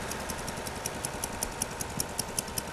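A rare Oliver 1850 Special antique tractor engine idles steadily at a threshing show, its broadband rumble punctuated by a regular, evenly spaced ticking beat throughout, with no talk.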